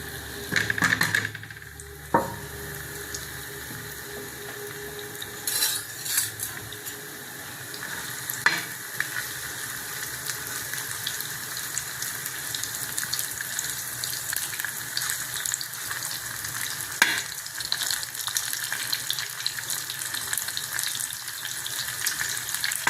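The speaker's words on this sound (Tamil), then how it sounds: "வாங்க இப்போ தோசைக்கல்லில் போட்டு ஆயில் ஊற்றிருங்க." Paneer coated in masala with garlic paste sizzles steadily in oil on a dosa griddle, a close, continuous frying crackle with occasional stirring scrapes and no talking.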